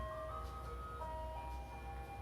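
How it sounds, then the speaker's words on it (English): An ice cream truck plays its tinkling electronic jingle outside a home, heard faintly from indoors as a steady, repeating melody. "Is the ice cream truck in my house?"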